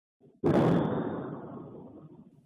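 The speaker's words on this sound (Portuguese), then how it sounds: "As imagens do circuito interno da cooperativa mostram o momento exato das explosões." A faint thud, then one loud explosion at a cooperative booms, its roar fading slowly over about two seconds, captured by internal security cameras.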